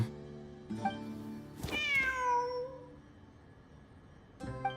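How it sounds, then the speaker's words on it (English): A cat in Genshin Impact gives a clear drawn-out meow near the middle, rising then sliding down, framed by short chimes and soft game ambience, with no one talking. "Wait, there it is! The cat!"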